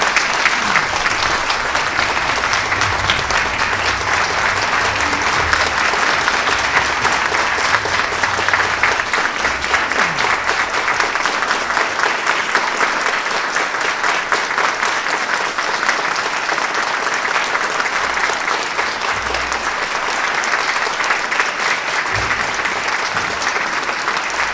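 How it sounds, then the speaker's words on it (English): Sustained applause from an audience at a community annual review event, steady and dense clapping filling the room throughout without a break. "Jane, we're going to clap for you"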